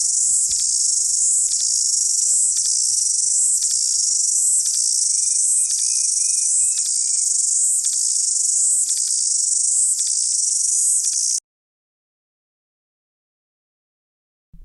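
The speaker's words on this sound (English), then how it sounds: "tried to film the ubiquitous cicadas" Cicadas in New Zealand near Abel Tasman Park, a loud, dense, continuous buzzing chorus that pulses slightly and stops abruptly near the end, with a few faint birdlike whistles mixed in partway through.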